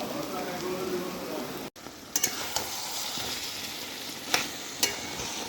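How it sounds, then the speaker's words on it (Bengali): Small pieces of bitter gourd fry in oil with salt, turmeric, nigella seeds, dried chilli and asafoetida, giving a steady, soft sizzle with occasional scraping stirs and clicks. "নুন হলুদ দিয়ে একদম ভাজা ভাজা করে নিচ্ছি ছোট্ট ছোট্ট টুকরো"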